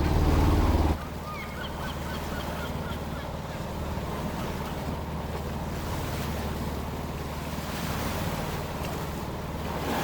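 Ocean waves wash around a sailing boat off Alaska, a steady surging roar mixed with wind buffeting the microphone, loud at the very start and then an even, continuous wash.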